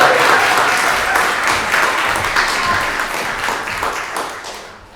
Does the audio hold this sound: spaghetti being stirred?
no